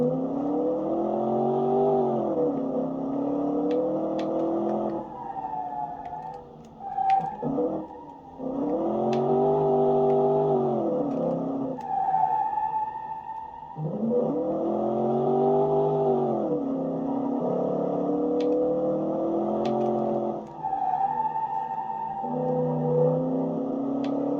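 Race car engine in a racing video game, an Armor Motors pony car, revs up repeatedly through the gears in a loud, steady rising and falling whine with short gaps between runs.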